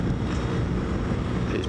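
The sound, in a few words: wind while riding a BMW R1250GS motorcycle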